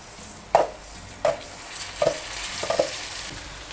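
Jasmine rice stirred into hot oil with golden garlic and ginger for Thai chicken rice, a few distinct scraping and clinking stirs spaced about a second apart over a soft steady sizzle.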